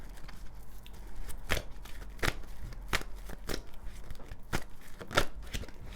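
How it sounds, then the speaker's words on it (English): Tarot cards being shuffled in repeated riffling bursts, close and crisp, with short snaps at irregular intervals and no talking. "now I'm just going to shuffle these cards"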